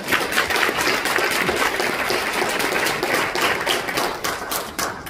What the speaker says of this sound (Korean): 여러분, 이 대목에서 박수를 부탁드리겠습니다